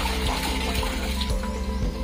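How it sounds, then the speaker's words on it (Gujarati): Ten litres of desi cow urine poured into a 200-litre drum of water while preparing jivamrut for natural farming: a loud, close, continuous gushing splash that runs unbroken throughout, with no talking. "તો પહેલા આપણે 10 લીટર દેશી ગાયનું ગૌમૂત્ર અંદર નાખશું"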